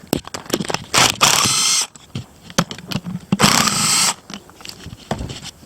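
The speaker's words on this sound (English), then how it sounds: "So I'm just going to get these 5 bolts out here." A power tool or impact driver backs out five bolts on an overdrive unit, loud close bursts of whirring and ratcheting separated by clinks and handling noises, no talking.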